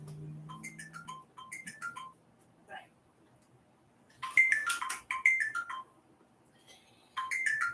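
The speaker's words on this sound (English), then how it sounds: "That's my med alarm back there." A phone alarm set as a medication reminder rings in repeated descending electronic chime patterns, fairly close, with a voice talking between and over some of the tones.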